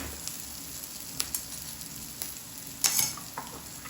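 Batter for farali parotha sizzles softly on a hot pan as a spoon spreads it, with a quiet steady crackle and a few faint scraping taps, including one brief louder stroke.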